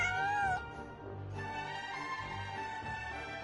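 A cat gives one clear, rising-and-falling meow close by, then goes quiet against a steady low hum of background noise.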